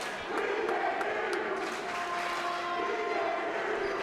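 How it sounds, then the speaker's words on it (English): A high school girls volleyball crowd with a packed student section roars in a steady wash of cheering and yelling, voices blending together at constant loudness throughout. "we've got a solid crowd on hand. A well-attended student section."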